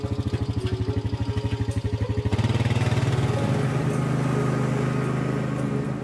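A ride-on lawnmower engine runs close by, first with a rapid regular pulsing chug, then revving to a louder, denser steady drone after a couple of seconds.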